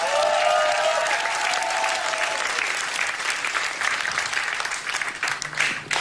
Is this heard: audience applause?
yes